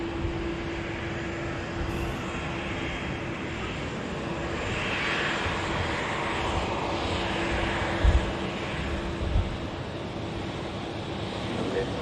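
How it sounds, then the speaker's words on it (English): An EasyJet airliner takes off at Manchester Airport, its engines a broad, sustained roar that swells slightly as it rotates and climbs, heard from a distance with wind noise. "EasyJet rotates and climbs"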